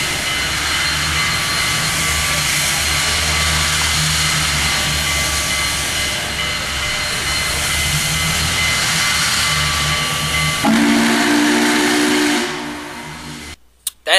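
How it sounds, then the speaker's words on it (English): Union Pacific 844 steam locomotive, a long sustained whistle over heavy hissing steam, loud and close, shifting to a higher whistle tone near the end before cutting off abruptly, with no voices. "That, by the way, for any of my fellow train buffs out there, is the Union Pacific 844. It's that steam engine that they run for PR purposes."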